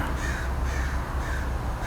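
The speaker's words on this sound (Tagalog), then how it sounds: "Nakikita nyo, di ko alam kung uwak yun o raven." A crow caws several times in a row at a moderate distance outdoors on a summer day, harsh repeated calls over faint background ambience.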